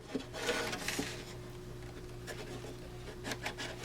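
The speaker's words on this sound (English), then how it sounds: "I'll just sand the end of that a little bit." The end of a wooden brace for a restored Triad radio cabinet is sanded by hand in a few short, dry rubbing strokes, close by and fairly quiet with brief gaps between passes.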